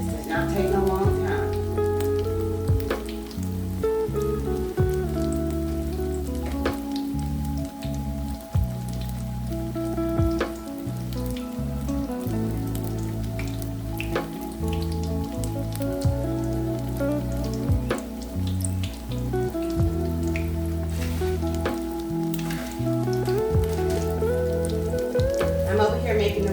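Salmon fries in hot oil with a continuous crackling sizzle, close and fairly loud, running for the whole stretch beneath a steady background of tonal, music-like sound.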